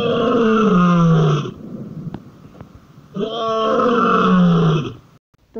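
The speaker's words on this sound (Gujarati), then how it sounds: "તો ચાલો હું જ તમને આજે સિંહની ત્રાટ સંભળાવું." A lion gives two long, loud, rumbling roars that slide downward in pitch, separated by a brief quieter pause.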